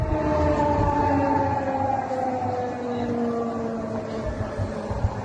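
An air raid siren in Poland wails steadily, its long tone slowly gliding downward, heard at a distance over a rumbling background.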